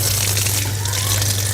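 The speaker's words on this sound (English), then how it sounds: "Then I am ready to rinse my hands." Tap water runs steadily as hands are rinsed under it, a continuous close splashing hiss with a low hum beneath, alone with no talk.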